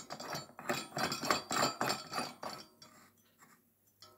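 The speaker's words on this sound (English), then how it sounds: "I'm gonna put it into the socket now." A GE 70 watt high pressure sodium tubular bulb is screwed into a lamp socket, giving a run of close, faint glassy clicks and scraping turns that taper off into quieter, scattered ticks.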